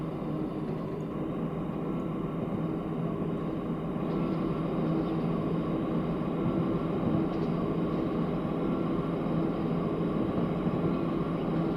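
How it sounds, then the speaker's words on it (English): Electric freight train hauling stone in the Transport Fever video game, a steady low rumbling drone with a constant hum running throughout, no voices. "And now we've got a nice electrified train."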